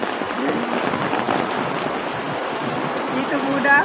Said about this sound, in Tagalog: Ito ang buhay namin dito. Umuulan.